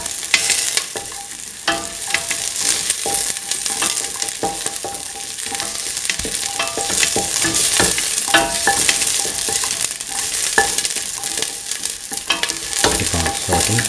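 Vegetables and shells sauteing in a hot pan sizzle steadily, with repeated scraping and stirring clicks over the constant hiss throughout, close and without talk.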